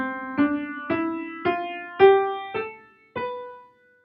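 Six single notes of a Locrian scale played on a plucked or keyed instrument, each struck cleanly and left to ring briefly in a slow, even ascending sequence.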